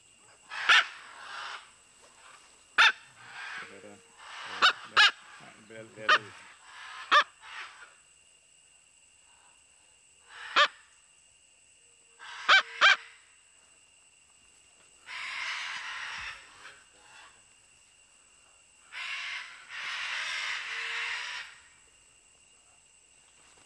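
Scarlet macaws at a Costa Rican reintroduction centre let out harsh, raspy squawks in scattered bursts, some short and sharp, others longer and grating, with quiet gaps between.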